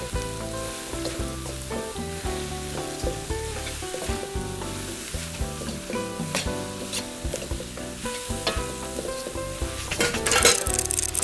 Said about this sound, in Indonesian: bawang putih, cabai merah iris, cabai hijau iris. Ya, aduk sampai layu.